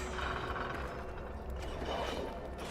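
A treasure chest creaks open in the fantasy survival game Enshrouded, a steady mechanical grinding and clicking of hinges and latch held at an even level throughout.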